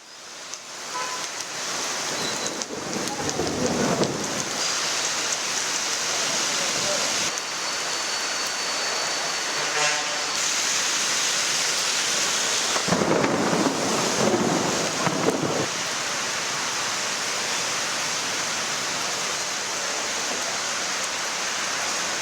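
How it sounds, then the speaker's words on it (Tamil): Heavy night rain driven by wind in Chennai, a dense, steady roaring hiss that runs unbroken throughout, with gusty surges but no distinct thunder clap. "நேற்று இரவு பல்வேறு பகுதிகளில் காற்றுடன் மழை வெளுத்து வாங்கியது"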